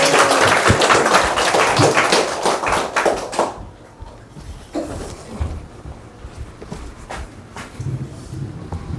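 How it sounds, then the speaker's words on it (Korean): Church congregation at a healing revival meeting claps to welcome the pastor's wife to the front, a loud, dense round of applause that thins after a few seconds into scattered, uneven claps and shuffling. "사모님 박수로 맞이하겠습니다."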